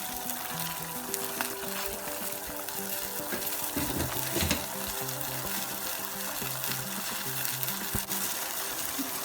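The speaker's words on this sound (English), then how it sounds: "Now I add soy sauce and sugar and we can stir and mix in together" Broccoli stir-fries in a pan with soy sauce and sugar, a soft continuous sizzle and bubbling with a few stirring clinks and scrapes midway, fairly quiet and with no voices.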